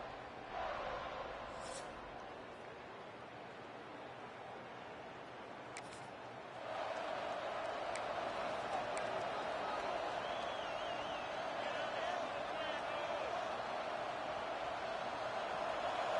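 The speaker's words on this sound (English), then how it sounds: "This crowd bringing an ear-splitting welcome to their visitors." Video-game stadium crowd at a college football game with Florida State as the visiting team, a broad steady roar that swells louder partway through and holds, with commentators talking over it.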